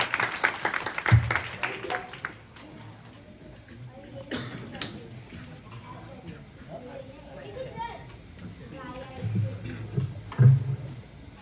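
Applause from a church congregation at a Lenten sermon gathering erupts in a short, dense burst of clapping, then fades into murmuring, voices and the stirring of a crowded hall.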